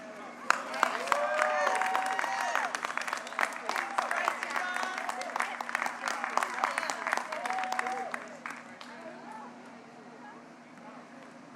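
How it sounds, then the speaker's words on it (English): Audience applause fills a high school graduation hall, a sustained mass of clapping hands with scattered cheers, steady for about eight seconds before thinning out toward the end. "I think we can do a better job of giving Kevon and Anissa a round of applause for those words of encouragement"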